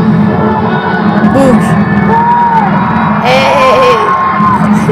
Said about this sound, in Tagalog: Tumitili na yung mga tao.